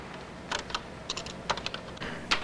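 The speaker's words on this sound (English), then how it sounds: "type in this short little program" Keystrokes on a Color Computer keyboard as a short program is typed in, irregular clusters of clicks and taps close to the microphone, alone with no talking.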